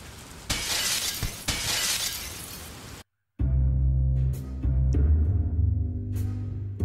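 Glass shatters loudly in the stealth game Gunpoint, a bright crashing burst of breaking panes that lasts a few seconds before cutting off, then gives way to a low musical drone.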